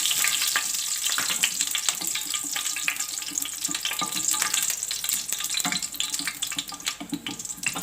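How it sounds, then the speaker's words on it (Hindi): Curry leaves, cumin seeds and whole red chillies frying in hot oil, giving a dense, steady, close sizzle with crackling pops throughout and no talking. "ये कड़ी पत्ता, ज़ीरा और लाल मिर्चें, इनको थोड़ा सा फ्राई करेंगे"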